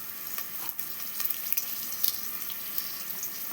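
Cumin, mustard seeds and broken dried red chillies frying in oil, a soft, fairly quiet sizzle dotted with small crackling pops.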